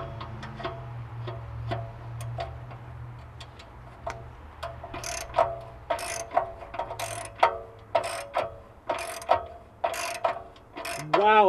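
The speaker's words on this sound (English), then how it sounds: "I'm gonna try 14 millimeter, half inch drive, 6-point," A ratchet fitted with a 14 mm half-inch-drive six-point socket works on a 1998 Camry engine, giving repeated sharp clicking ratchet strokes, sparse at first and then faster and louder, with a brief squeak at the end.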